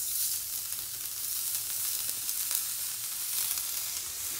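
Fresh venison sizzles on a hot sauna stove in a steady, close, continuous hiss with a bright crackle running unbroken throughout.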